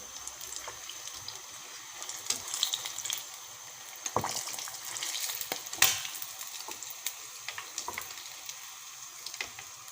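Eggs frying in a wok, a steady close sizzle with crackling spatters and occasional louder pops and scraping stirs, running alone without talk.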